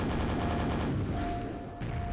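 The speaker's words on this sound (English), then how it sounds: "Oh, it's the super nail gun" Rapid stream of super nail gun shots in Quake, dense mechanical rattling fire that runs loud and unbroken, dips briefly, then resumes.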